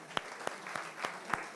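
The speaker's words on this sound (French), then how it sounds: "On les applaudit." Slow, sparse clapping at a church service: about five distinct claps spaced roughly a third of a second apart over soft background noise, fairly faint and close.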